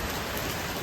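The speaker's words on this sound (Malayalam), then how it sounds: "മഴ മഴ മഴ മഴ." Rain falls steadily in a brief, even wash of dense hiss, with no other sounds standing out.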